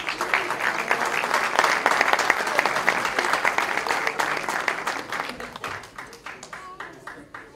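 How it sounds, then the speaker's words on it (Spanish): A crowd at a tribute evening for a guitar luthier applauds Don Segundo de la Torre, a recording figure; the full clapping swells early, then thins into scattered separate claps as it dies away. "Un aplauso, por favor, a Don Segundo de la Torre."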